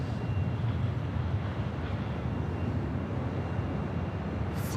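A Boeing 747 taking off at LAX, a broad steady roar of jet engines holding at moderate distance with no clear rise or fade.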